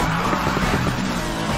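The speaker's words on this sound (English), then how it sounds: "Watch it, he just slammed on his brakes." Car tires skidding and squealing under hard braking in the racing game Need for Speed Most Wanted, a loud continuous screech blended with engine roar.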